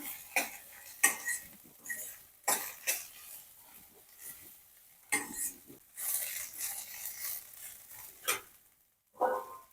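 Bitter gourd pieces stir-roasted in a pan, with a spoon scraping and clinking against the metal in uneven bursts and short pauses, close and moderately loud.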